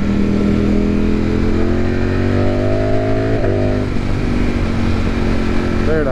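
A 2020 Ducati motorcycle, a Streetfighter V4 S or V2 Panigale, accelerates loudly on the road, its engine note climbing through rising gear sweeps with shifts, close to the rider and over wind noise.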